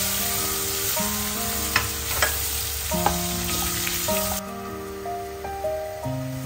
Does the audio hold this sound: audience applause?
no